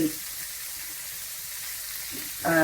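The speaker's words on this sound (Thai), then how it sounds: "อืมก็ผัดให้" A crab and prawn omelette sizzles as it is stir-fried in a pan, giving a steady soft hiss, with a brief louder clatter at the end.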